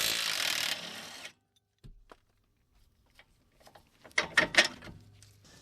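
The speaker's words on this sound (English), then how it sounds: "just take your 18 mil wrench on the back and go ahead and remove this" An 18 mm wrench works a front control arm bolt on a 2010-2016 Buick Lacrosse, Regal or Chevy Malibu, giving a few sharp metallic clicks and clanks after a short burst of noise, then quiet.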